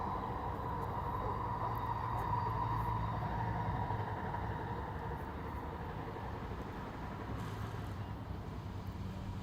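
A steady low rumble and rolling clatter of a train going by, continuous and fairly loud throughout with no voices.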